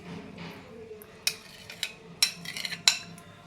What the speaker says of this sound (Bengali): এবার আমি এই মিক্সটা এই বক্সের মধ্যে ঢেলে দিচ্ছি